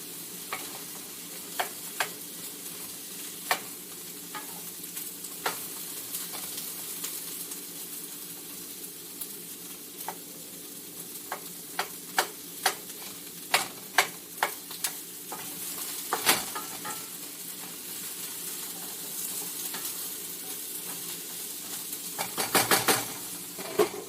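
Onions for a red braised beef stew fry in a pan with a constant low sizzle, while a utensil clacks and scrapes against the metal in scattered, irregular taps, close and unaccompanied by speech.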